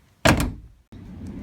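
Door of a BMW E46 330 Ci Clubsport shutting with a single solid thunk up close, followed by a short silence and then a low background hum.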